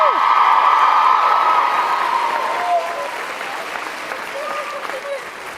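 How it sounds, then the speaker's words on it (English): A loud, sustained round of applause with cheering from the crowd at a young women's leadership summit, strongest at first and then gradually easing off. "give a round of applause for Amancha"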